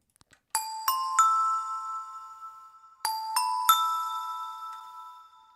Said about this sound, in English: these bells sound fantastic when you send them to this Valhalla room